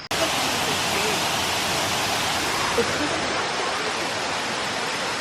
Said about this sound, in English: This is supposed to be the cave waterfall